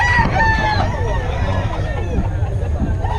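Pumpkin Sweater gamefowl rooster crowing at a busy poultry market in Bocaue, the call rising over constant crowd babble, other birds and low rumbling background noise.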